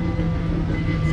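A small coal-fired steam train rolls past in Sarasota with a continuous, moderately loud rumbling clatter and a faint steady whine on top, no talking heard.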